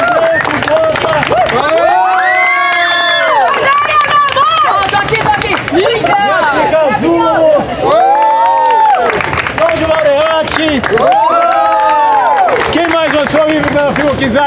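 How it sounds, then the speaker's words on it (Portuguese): Loud cheering from a crowd at a literary evening and book launch, with whooping voices rising and falling in waves over clapping and general chatter. "salva de palmas. Hugo Paz."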